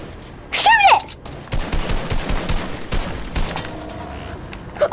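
Rapid bursts of automatic gunfire and a fusillade of shots in the Fortnite video game, loud and dense across several seconds, with a short synthetic whistling effect near the start and voices shouting over the battle.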